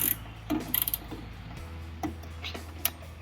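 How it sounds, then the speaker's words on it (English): A socket ratchet clicks in quick bursts while bolts are worked loose from a buggy's rear luggage rack, with a low motor hum underneath and scattered metallic taps close by. "I'm taking out these bolts so I could get this back rack off."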